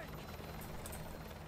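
Helicopter rotor drone from Modern Warfare 2 Remastered game audio, a steady low throb running under constant background mix, with voices talking over it.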